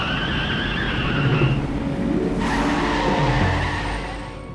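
A car braking to a stop on a road, tires squealing and skidding loudly for a few seconds before the sound fades out near the end.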